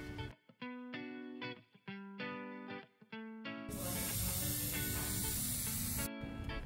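Clair antibacterial spray hisses out in one long, steady burst of about two and a half seconds inside a room, following a stretch of music.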